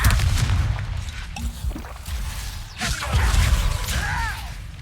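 Spell casting and Confringo fire blasts in the video game Hogwarts Legacy, a busy run of whooshing casts, sharp cracks and deep booming impacts layered over a constant low rumble of combat, loud and dense with brief swishing tones near the end.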